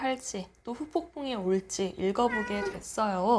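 A house cat meows loudly close by, several drawn-out cries mixed in with a person talking steadily over it indoors.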